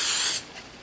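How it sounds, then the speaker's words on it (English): A short, bright hiss of hairspray is sprayed into a jar, a single burst lasting under half a second before it cuts off and leaves a faint tail. "I think we're ready for our hairspray, and our hairspray will be like our dust particles"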